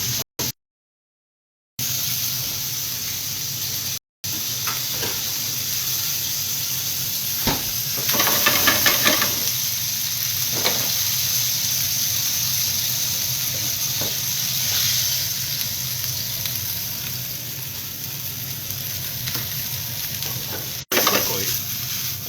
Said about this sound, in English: We're just going to do it nice, like I said, basically a stir fry here. A couple handfuls of greens, one for each of us.